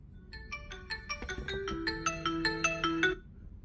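A Redmi Watch 3 find-your-phone alarm rings on a phone as a loud, close electronic ringtone melody of repeating bright tones, heard alone for about three seconds.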